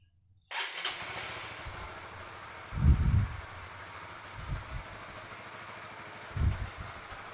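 A motorcycle engine fires up from silence and settles into a low idle, with three short throttle blips rising above the steady rumble, close by.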